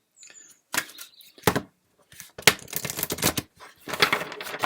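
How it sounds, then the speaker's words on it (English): Tarot cards are shuffled in several crisp, rapid bursts of riffling and slapping, close by, with short pauses between them. "One more shuffle, here we go."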